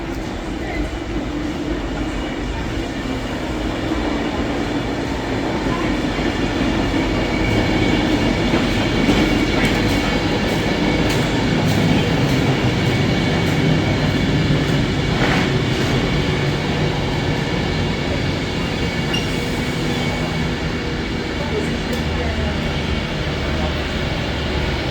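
A train passing through Stockport station, a steady broadband rumble of wheels and rolling stock that rises a little in the middle and then holds, with faint clicks from the track under the wash of noise.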